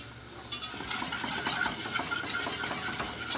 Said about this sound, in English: Okay, so we'll add a little bit at a time. And we'll whisk that in.